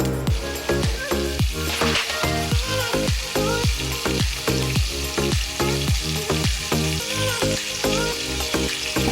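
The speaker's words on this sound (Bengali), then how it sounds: "এরপরে মেখে রাখা মাছগুলোকে ভেজে নেব।" Marinated bata fish frying in hot oil in a wok. The close sizzle is loud and steady, broken by a regular series of sharp clattering strikes throughout.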